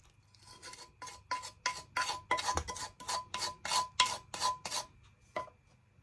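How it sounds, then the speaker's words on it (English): Dry ingredients and oil are mixed into a brownie batter in a bowl, giving about a dozen steady, rhythmic rasping strokes that are close and fairly loud, with no voices. "Now mix everything in"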